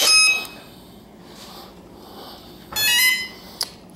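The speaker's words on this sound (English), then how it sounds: "So it makes these little beeps to let you know it's ready." A Radian XL RC glider gives a few short, loud electronic beeps when its battery is plugged in: one tone at the start, a quieter pair, then another longer beep and a final click-like blip.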